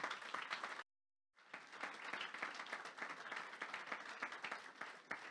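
A church congregation applauds together during a worship service, dense continuous clapping that fills the room, broken by one short cut of silence before the applause resumes at the same strength.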